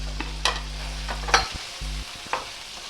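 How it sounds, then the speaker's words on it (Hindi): Ground spices with chilli, coriander, cumin and garam masala frying and being stirred in a pan for bottle gourd chicken curry: intermittent scraping stir strokes and soft sizzling, close up, over a steady low burner hum. "थोड़ी देर में ज़रा इस मसाले को भून लूँ"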